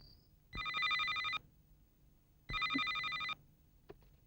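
A telephone rings in two separate bursts of bright, electronic trilling, each lasting under a second and separated by a quiet gap; it is loud and close, with no voices.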